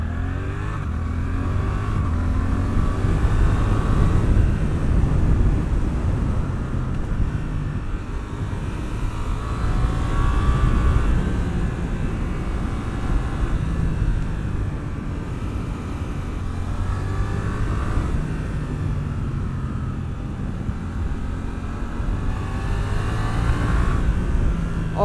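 A Suzuki GSX-8S motorcycle engine pulls hard on an open road, revving and accelerating with a steady throaty drone and rising pitch sweeps, loud and close with continuous wind rush throughout.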